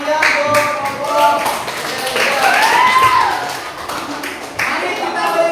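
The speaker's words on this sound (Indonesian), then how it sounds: "Beri tepuk tangan yang meriah untuk kelompok." A class of students claps for a group during a micro-teaching session in an informatics lesson, with brisk scattered clapping alongside talk and children's voices.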